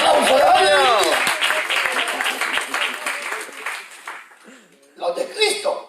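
A church congregation applauds during a sermon, the clapping mixed with cheering voices and a preacher's shouting, then dropping off briefly before a fresh burst near the end.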